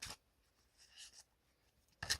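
Tarot cards are shuffled up close in a few short, papery riffling bursts with quiet gaps between them.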